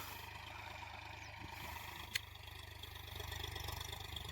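A tractor engine idles with a low, steady rumble on a farm field while forming ridges, moderately distant, with a brief sharp click partway through.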